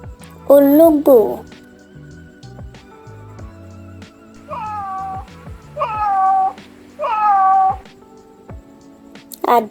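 A domestic cat meows several times, loud and close, with one drawn-out call followed by a series of shorter repeated meows, amid steady background sounds.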